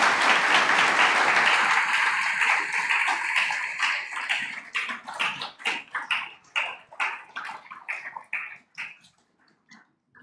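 A congregation at a Sunday church service applauds during a dedication, starting as a loud, dense wash of clapping that thins after a few seconds into scattered individual claps before dying away.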